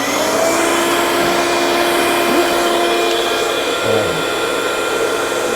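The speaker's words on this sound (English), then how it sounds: "we're going to turn the vacuum on, which is attached, to this dust shoe." A vacuum attached to the dust shoe of an at-home CNC router runs loud and close, a constant high-pitched whining roar that holds steady the whole time.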